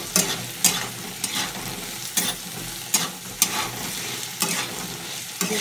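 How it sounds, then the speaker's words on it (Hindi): Potatoes seasoned with salt are stir-fried in a pan, with a constant hiss of frying under a regular rhythm of sharp spatula scrapes, close and fairly loud, and no voices. "इसमें मिला के हमें फ्राई कर लेना है।"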